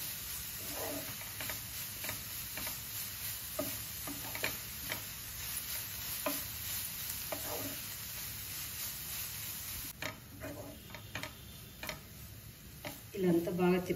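Carrot halwa fries quietly in a pan while a spoon scrapes and stirs in a repeated rhythm, with a soft sizzle underneath and faint low voices.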